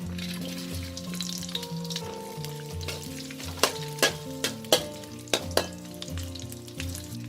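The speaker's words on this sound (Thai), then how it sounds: "เดี๋ยวเรามาทอดกุนเชียงกันค่ะ" Chinese sausage (kun chiang) frying in oil, with a soft sizzle and several sharp spatula clicks under steady background music.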